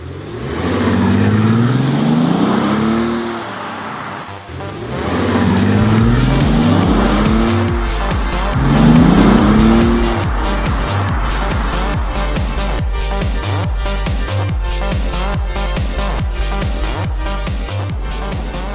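A Bentley Continental GTC's W12 engine revs hard and accelerates repeatedly, rising in pitch through gears, then settles into a loud steady drone, close and unaccompanied by talk.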